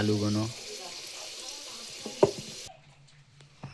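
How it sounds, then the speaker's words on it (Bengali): Potato pieces fry in hot oil with a close, steady sizzle and a few stirring clinks, a voice briefly speaking at the start before the sound cuts to near quiet. "2 মিনিট থেকে 3 মিনিট ভাজার পরে তোমরা তুলে নিবে"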